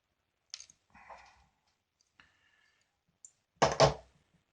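Small clicks and snips as a part is trimmed off a model locomotive bogie tower for an N gauge Farish Class 50, ending in a louder double snap, close and quiet with gaps of silence between.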